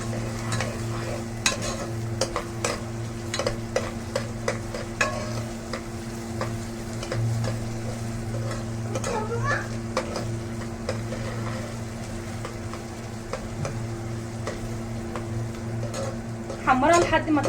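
Onion frying in oil as it is stirred until golden, a constant sizzle under a low hum with repeated ticking scrapes of the spoon against the pan.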